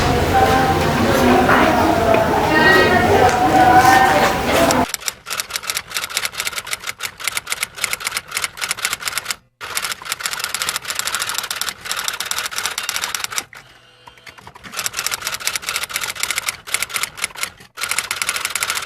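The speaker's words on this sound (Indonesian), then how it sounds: "Sayuti, tolong kau ketikkan naskah ini." A mechanical typewriter clatters loudly and steadily with dense, rapid key strikes that continue after a noisy opening, interrupted by one or two brief pauses.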